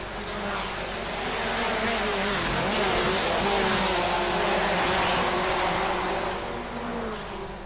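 Race cars tear through street-circuit chicanes at the Bangsaen Grand Prix in Thailand, a loud continuous roar of engines swelling and fading as the cars pass by, with no talk.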